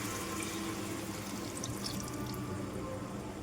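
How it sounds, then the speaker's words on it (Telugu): Tamarind juice pours into a pan of curry in a steady, soft liquid stream, a continuous trickling splash without pauses and no talking. "ఇప్పుడు చింతపండు పులుసును కూడా యాడ్ చేసుకుందాము."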